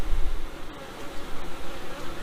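Honey bees hum around a hive during a walk-away split, a dense, continuous buzzing close by, alone and fairly loud with slight swells in level.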